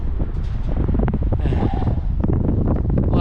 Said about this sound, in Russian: Сегодня очень ветрено